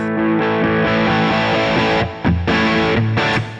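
An electric guitar plays with the volume pedal set around halfway, giving loud, mostly clean chords with a little crunch, strummed in a steady rhythm with a brief pause near the end.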